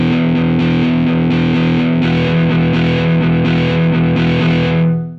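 Distorted electric guitar sample from Decent Sampler, strummed chords ringing loud and dense with heavy overdrive and a chorus-like shimmer, repeated in quick strokes before cutting off.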